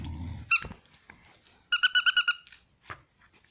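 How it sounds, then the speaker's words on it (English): Squeaky tail of a plush raccoon dog toy squeezed indoors: one sharp squeak, then a quick run of five or six rapid squeaks, and a final faint squeak, alone and close. "And it has a squeaky tail."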